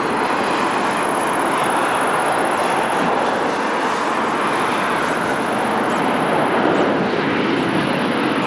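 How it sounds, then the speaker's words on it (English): An A330neo airliner on the flight from Maputo at Lisbon Airport, a steady loud broadband jet engine roar that holds constant throughout, with no voices. "We will have the flight from Maputo very soon. A330 Neo."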